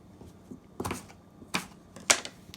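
A knife cuts through sweet potato in several separate crisp chops, each a short sharp knock against the board, spaced irregularly and fairly close.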